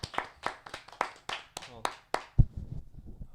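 A group claps in a steady rhythm, about ten sharp, evenly spaced claps close by, then a heavy thump and voices talking over the fading noise.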